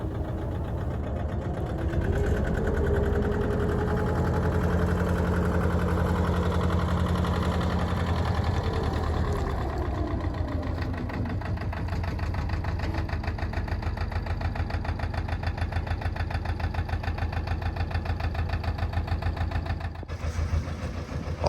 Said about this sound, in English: Quick blast of reverse to bring the boat to a halt.